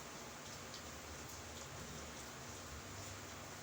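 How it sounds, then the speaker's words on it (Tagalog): Steady rain falls continuously, a dense even hiss of drops on surfaces with no voices and no breaks. "Hindi na tumigil yung ulan, no?"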